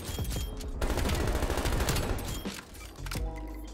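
Heavy automatic gunfire in the shooter Call of Duty: Black Ops Cold War, with rapid overlapping bursts from several weapons, loud and close, briefly easing before the shooting picks up again.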